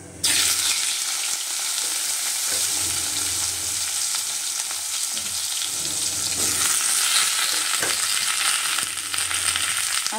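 Cabbage and other vegetables frying in hot oil with panch phoron and bay leaves for a Bengali cabbage chorchori, giving a loud, steady sizzle with occasional stirring scrapes, close up and without talk.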